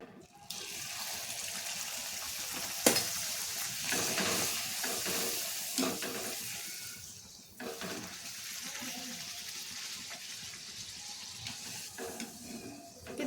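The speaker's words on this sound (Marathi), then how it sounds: "अशा सर्व पुऱ्या आपण तळून घ्यायचे" Puris frying in hot oil in a home kitchen give a steady, dense sizzle and bubbling hiss throughout, with occasional clinks and stirring noises close by.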